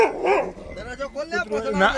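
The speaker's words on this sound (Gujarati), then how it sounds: "કૂતરું આવ્યું કૂતરું આવ્યું" Short, high yipping barks from a dog mixed with excited voices talking over them, close and fairly loud.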